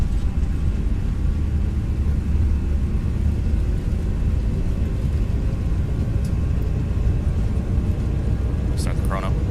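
Engines of a ToLiss A321 airliner in X-Plane 11 spool up for takeoff, a steady loud broadband roar and rumble that holds constant throughout, with someone talking over it.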